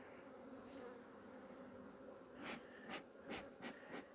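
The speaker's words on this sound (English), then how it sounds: "Bees walking around with honey, or excuse me, pollen attached to their legs." Honeybees buzz steadily around an open hive during an inspection, a continuous close drone with several louder passes as individual bees fly near, no talking.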